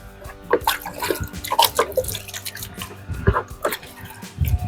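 Water poured and splashed over a running 3 kW BEVE Power inverter, close irregular drips and splashes with a faint steady electrical hum beneath, no talk.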